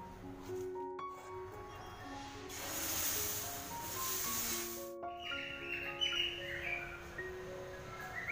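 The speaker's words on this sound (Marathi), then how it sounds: "हे असे पक्ष्यांचे आवाज ऐकून गावची आठवण झाली ना" Birds call on a village morning, scattered chirps and tonal whistles rising over a soft, steady outdoor hiss, with a brief brighter burst of calls partway through and no one speaking.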